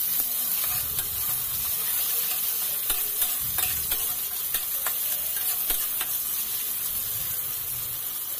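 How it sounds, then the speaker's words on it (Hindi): Chopped capsicum sizzles steadily in a pan while being lightly fried and stirred for veg spring roll filling, with intermittent scraping clicks of the stirring utensil over a constant frying hiss. "कटी हुई शिमला मिर्च, इसे हल्का फ्राई करना है"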